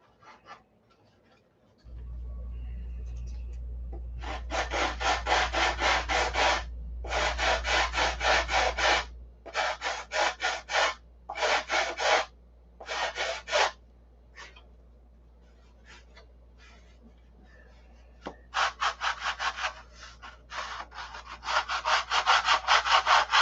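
Plywood being cut and sanded by hand on a P-47 cowl, with rhythmic bursts of rasping strokes separated by short pauses, close and fairly loud over a low steady hum.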